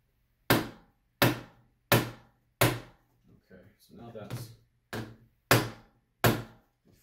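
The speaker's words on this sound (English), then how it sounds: "actually hammer those screws down through" Sharp, evenly spaced hammer blows drive staples into a hard flat hardboard panel, about seven in all, pausing briefly while someone speaks.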